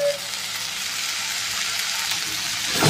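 Susni greens frying with onion, garlic and chilli in a pan, a dense, even hiss of sizzling that holds steady and swells slightly at the end.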